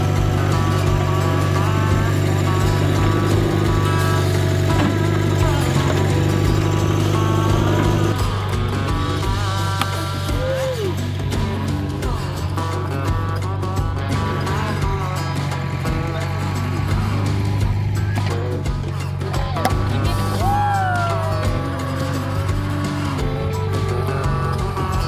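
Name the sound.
backhoe digging and working dirt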